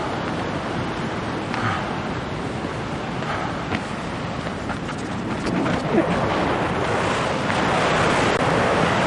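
Roaring Bow River near Bow Falls in Banff, a loud, steady broadband rush of whitewater that fills the whole stretch, with gusty wind buffeting the microphone and no voices.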